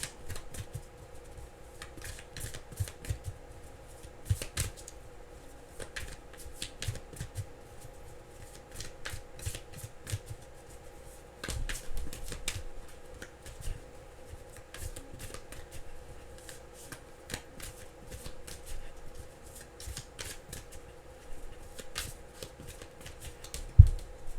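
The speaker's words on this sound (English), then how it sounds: "I know I'm taking a long time to shuffle." Tarot cards being shuffled, repeated soft riffling and tapping bursts in an irregular rhythm, close and fairly quiet, with no talk.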